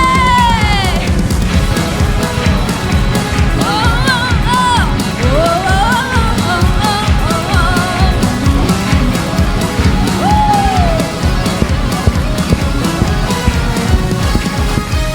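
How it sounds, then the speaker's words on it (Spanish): A church congregation shouting for joy in worship, a loud, dense crowd of overlapping yells, whoops and cheers mixed with voices, sustained throughout. "Vamos a dar un grito de júbilo ahí"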